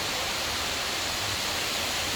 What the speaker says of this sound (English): And there's the waterfall from the top.